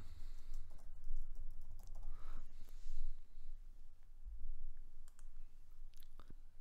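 Mouse clicks while editing layers in Photoshop: a handful of quiet, sharp clicks scattered over soft room noise, with no talking.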